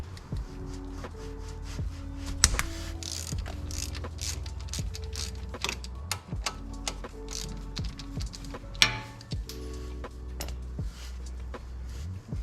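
A ratchet wrench clicks rhythmically while a shift linkage bolt is removed from a Honda Civic B16 transmission, with mechanical clacks and a whirring tone beneath.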